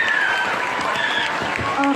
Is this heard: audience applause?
yes